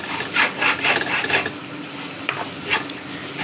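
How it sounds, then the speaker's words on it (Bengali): Rice frying in ghee for pulao, stirred in the pan with a spoon, a close scraping rhythm of several quick strokes over a steady sizzle, without talking. "ভালো করে ভাজতে হবে। ঘি দিয়ে দাও"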